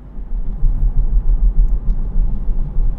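Inside a moving Citroën C5 Aircross, a continuous low road rumble swells and eases slightly as the car drives, with no talking.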